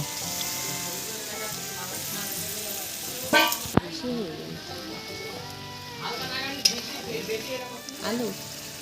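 Water hits a hot frying pan during chicken biryani cooking, giving a moderate sizzle with occasional stirring clatter, under voices and other tonal background sound.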